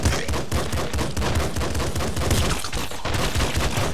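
Rapid assault-rifle burst fire from the video game Nuclear Throne, dense repeated gunshots crackling loudly and continuously, with a brief voice speaking over them.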